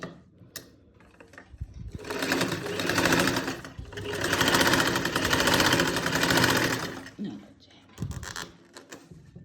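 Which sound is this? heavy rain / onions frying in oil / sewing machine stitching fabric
sewing machine stitching fabric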